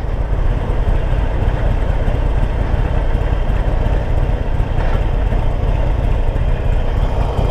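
Harley-Davidson motorcycle engine running steadily while ridden through traffic, a loud, continuous low rumble with no breaks and no voices.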